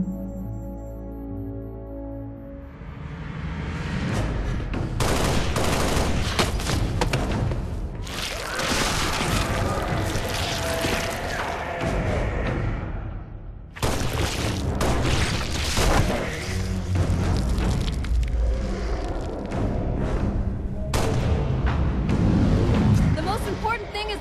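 Gunfire and heavy blasts in a movie battle scene, loud dense booms and crackling bursts filling most of the stretch with a brief drop in the middle, with voices shouting over it.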